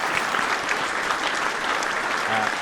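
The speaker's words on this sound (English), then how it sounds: "Please give him a round of applause." Audience applause fills a hall at the 2024 Aurora Prize ceremony in Los Angeles: dense, steady clapping from a large crowd, sustained and even for the whole stretch.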